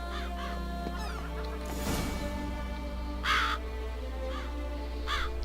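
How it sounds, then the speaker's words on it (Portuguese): Crows caw in The Witcher 3: Blood and Wine, giving four or five harsh, separate caws over a constant low ambient drone. "Olha os corvos."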